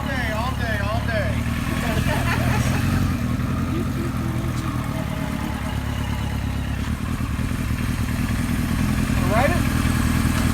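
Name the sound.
1976 Kawasaki KZ900 motorcycle engine running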